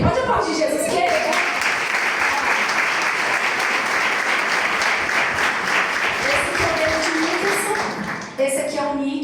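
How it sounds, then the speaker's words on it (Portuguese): A church congregation bursts into sustained, loud applause, with some voices calling out over the clapping before it fades near the end. "pode aplaudir Jesus"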